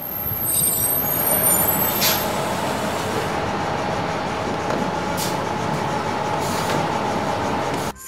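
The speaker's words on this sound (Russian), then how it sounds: "Автобус." A city bus idles and rumbles nearby, with sharp hissing releases from its air brakes cutting in several times over a steady engine drone.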